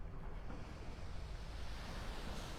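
The incoming tide washes onto a beach in North Naples, Florida, a continuous soft roar of surf and breaking waves with a touch of wind noise, steady and moderately loud without speech.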